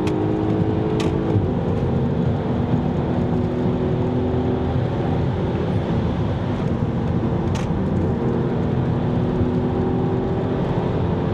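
A VW Passat 3.2 with lowered springs accelerating hard on a rough road, its loud engine droning and rising in pitch as the revs climb, with sharp knocks and thumps from the bumps. No one talks.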